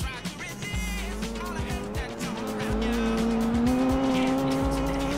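Subaru race car in the Gran Turismo 4 video game, its engine droning steadily and rising in pitch, with tire squeal and skidding throughout, loud and up close.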